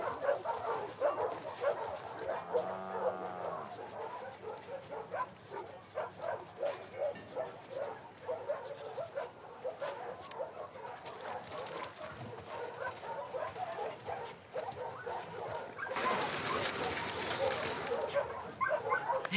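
A dog in the video game The Last of Us Part 2 yips, barks and whimpers excitedly at close range throughout, with people talking over it.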